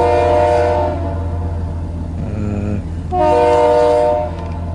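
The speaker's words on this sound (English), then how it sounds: "Here comes a southbound BNSF train" A southbound BNSF freight train passes in Fremont, Nebraska, sounding a loud, sustained multi-tone horn in two long blasts with a short gap between them, over a steady rumble of rolling cars.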